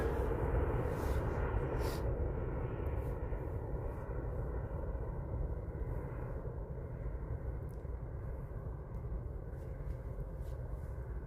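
Airliner over Manchester Airport banking right, a broad distant engine rumble droning steadily at a low, even level, with no talk.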